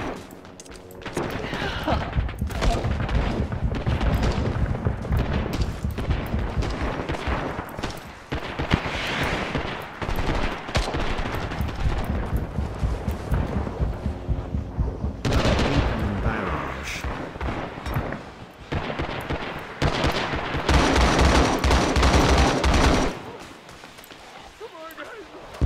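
Napalm strike explosions and heavy battlefield fire in the Vietnam war game Rising Storm 2, a loud rolling barrage of blasts and gunshots over long stretches, with players talking over the din.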